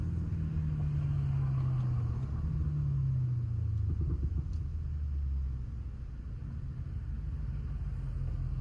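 A BMW 750i twin-turbo sedan rolls along residential streets as its deep exhaust drones, pitch sliding down as it decelerates, then settles into a low rumbling burble with no voices over it.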